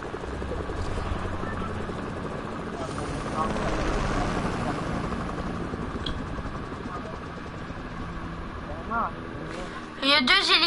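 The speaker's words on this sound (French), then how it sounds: "il y a du monde en hélico direct à côté de moi" Helicopters flying close by in a video game, a steady whirring rotor drone holding throughout and swelling slightly, with a player talking over it.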